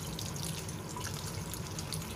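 Cooked noodles being rinsed under a steady stream of filtered tap water in a kitchen sink, a continuous, close splashing rush that runs unbroken for about two seconds with no voices.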